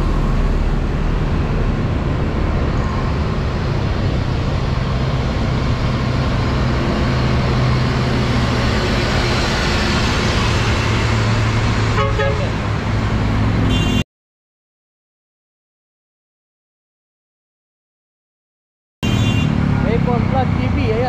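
Dense roadway din on a trip to Sta. Ana, Cagayan, a steady close rumble of passing cars, buses and trucks, loud and continuous before a sudden cutout of several seconds, then resuming; no distinct horns stand out.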